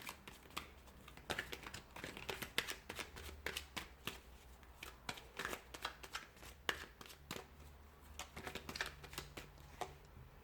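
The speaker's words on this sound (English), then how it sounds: "we'll give the cards a shuffle" Tarot cards are shuffled again and again, a quiet run of riffling bursts and soft flicks in a calm, close setting.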